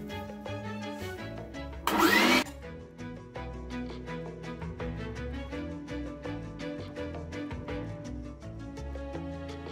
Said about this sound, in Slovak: Budem ho mlieť na šajbe s dierami 6 mm.